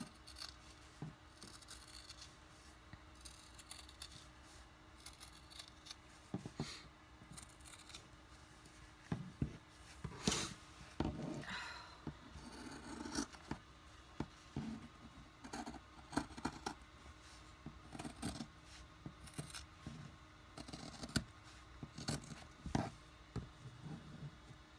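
Scissors snipping through fabric around embroidery stitching for a purse, a run of close, crisp irregular cuts and rustles repeating throughout at a quiet level.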